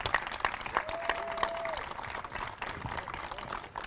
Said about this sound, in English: So let's give him and his team a round of applause.